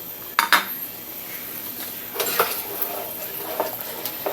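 Green chili and chicken stock go into a pan of sautéed chicken with tomato and chayote, with a couple of sharp metallic clinks of utensil on pan, then softer scraping and liquid sizzle at moderate volume, no talking.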